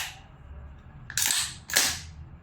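Two sharp, close shots from a VFC BCM MCMR 14.5 airsoft gas blowback rifle, Redmantoys edition, crack about half a second apart, each with a metallic blowback snap, after a faint hiss.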